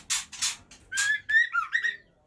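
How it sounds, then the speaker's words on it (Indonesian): A female white-rumped shama, or murai batu, sings at a captive breeding aviary in a short burst of clear whistled phrases with rising notes and quick warbles. Each phrase comes after a few faint chirps and is heard up close and on its own. "Ini kita lihat yang betina malah berkicau"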